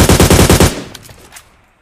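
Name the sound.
machine gun fire in a video game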